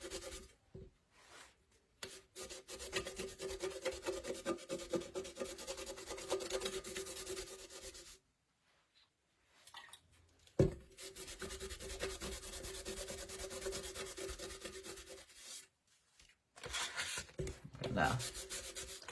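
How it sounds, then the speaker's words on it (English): Sandpaper and a wet rag rub against a Dollar Tree metal can being distressed for a farmhouse candle holder, giving steady close scratchy sanding strokes with a few brief pauses. "Even once you get it started with your sandpaper, you could just take your wet rag and start"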